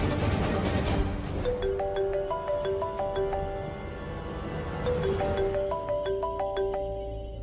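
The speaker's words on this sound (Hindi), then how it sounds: "मैं ना राजवीर को फोन करती हूँ" A melodic phone ringtone plays a repeating tune of bright electronic notes, loud and close, over a low background murmur.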